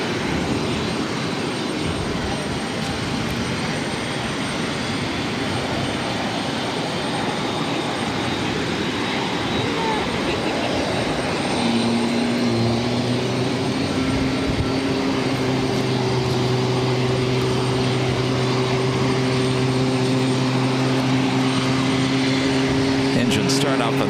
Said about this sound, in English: Engine start up on that 737 MAX 8.